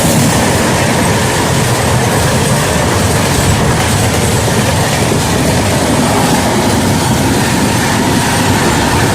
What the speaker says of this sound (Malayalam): അവിടെ നിന്ന് ഒരു ട്രെയിന് വരുന്നു